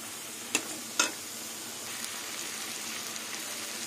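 Prawns and ghetkol stalks with mustard paste and green chilli cook down in a pan, a low, even sizzle with two sharp utensil knocks near the start and no voices.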